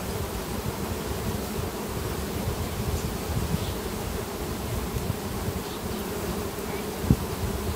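Honeybees buzz steadily at a hive during July–August colony work, a dense, continuous drone close by with no voices over it.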